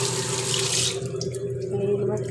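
Tap water runs into a sink while eggplants are washed, a bright splashing stream that drops away after about a second, leaving a lower steady trickle with a faint tone.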